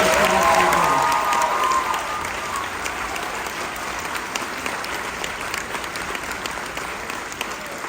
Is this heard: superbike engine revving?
no